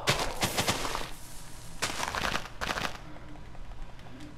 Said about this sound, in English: Exploding TNT!